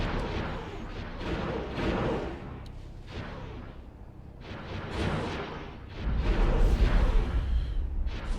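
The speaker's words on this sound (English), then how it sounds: "Now we're opening up with all the guns." Capital ship guns firing in an X4 space battle with a Star Wars modification, a series of deep booming salvos in repeated swells that grow heavier and louder toward the end, with no talking.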